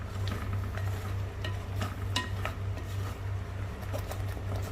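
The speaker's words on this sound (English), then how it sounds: "We'll stir it and mix the puree with the masala." Tomato puree being stirred into masala in a pan while making crab masala curry, a continuous low bubbling sizzle with soft scraping stirs and light clinks throughout, close and moderately quiet.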